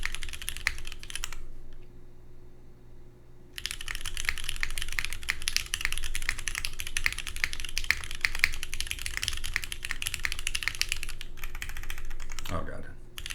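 Dense mechanical key clatter from a Bowl Keyboards OC-62 fitted with KKB keycaps, steady close-up typing after a brief pause, with a soft voice murmuring near the end.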